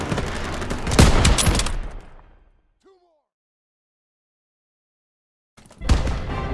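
Gunfire bursts in the World War II shooter game Call of Duty: WWII, loud and dense in the first two seconds, dropping to silence, then another sharp burst resuming near the end.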